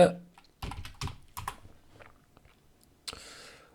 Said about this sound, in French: donc voilà le clavier, tac tac tac